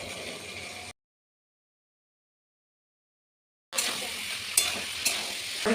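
Chickpeas and potatoes tumble into a pan of frying chicken curry and get stirred, a steady close sizzle with scraping, broken by a long silent gap before the frying and stirring resume.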